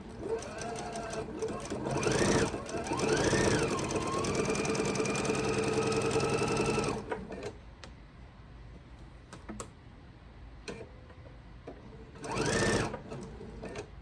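A domestic sewing machine chain pieces a quilt block, humming and rattling in a steady fast run for about seven seconds, then a quieter stretch with a brief second burst, with someone speaking over parts of it.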